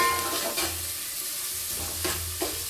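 Mushroom gravy masala sautés in a pan, giving a moderate sizzle with repeated scraping stirs and occasional spoon clinks on the pan, and no one talking.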